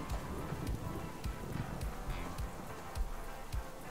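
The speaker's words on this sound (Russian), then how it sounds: "дождь уже довольно-таки давно идет." Rain falls steadily in the survival game Subsistence, a soft continuous patter with scattered heavier drops, faint and even throughout.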